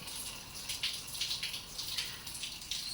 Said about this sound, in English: It's still dripping.